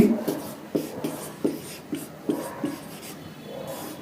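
A pen writes a definition by hand on paper in steady, close scratching strokes, with rhythmic bursts and short pauses between words, quiet and without speech.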